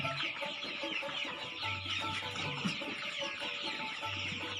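A large flock of tiger breed chickens, about twenty days old, clucks continuously on a poultry farm, a dense overlapping chorus of many birds with no talking.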